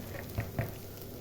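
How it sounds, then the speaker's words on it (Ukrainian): Quiet, steady sizzling of salmon and vegetable patties frying in a pan, with a couple of soft pops and taps near the middle. "Все, хай смажиться."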